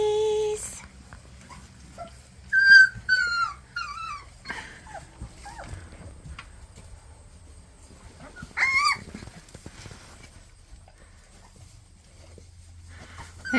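Several young puppies give high, wavering whimpers in short bursts, loudest early on and again briefly later, with quiet shuffling between cries and no talking.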